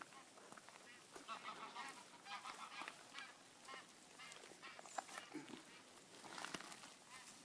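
Several geese honk repeatedly at moderate distance, overlapping calls rising and falling against a quiet outdoor background.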